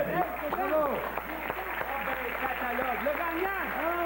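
An audience in a bar applauds the winner of an evening storytelling contest in Mauricie, broad steady clapping with whoops and cheering voices layered over it, lively and close throughout.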